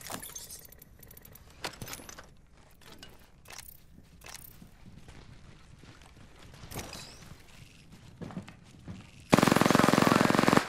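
Gunfire in the Apex Legends battle royale game, scattered sharp shots and mechanical clicks at moderate level, ending in a loud sustained burst of automatic fire.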